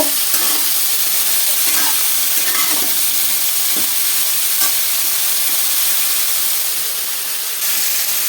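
Bitter gourd and eggplant frying with turmeric in a pan, a loud steady hiss of sizzling oil throughout with occasional faint scrapes, close and without speech.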